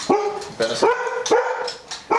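A dog barks repeatedly indoors at home, sharp yips in an uneven rhythm at about four barks over two seconds, close and fairly loud.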